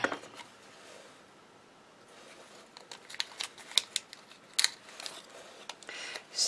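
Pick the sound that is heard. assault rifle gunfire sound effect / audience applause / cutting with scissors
cutting with scissors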